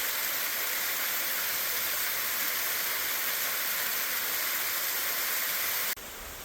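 Freedom Falls roars as a steady, loud, broadband rush of falling water with no break, dropping abruptly to a quieter hiss in the last half second.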